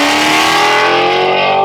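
A Maserati GranTurismo S fitted with custom megaphone test pipes and a tune revs hard on a dyno, a loud, sustained, rising engine note with strong harmonics and no talk.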